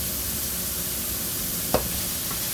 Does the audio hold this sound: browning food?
yes